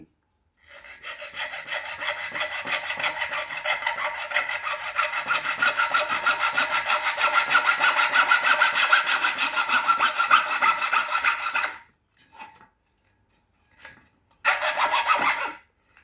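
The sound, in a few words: sawing PVC pipe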